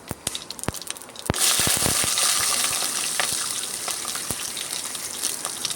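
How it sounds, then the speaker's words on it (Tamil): Cumin and poppy seeds hit hot oil with a sudden loud crackling sizzle that settles into steady frying with scattered pops, preparing a chicken gravy. "1 ஸ்பூன் சீரகம், 1 ஸ்பூன் கசகசா இதை போட்டு அந்த எண்ணெயில் பொரிய விடணும்."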